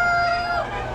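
A rooster, among Sussex and other chickens, crows loudly and close by, a single drawn-out call fading near the end over quiet background.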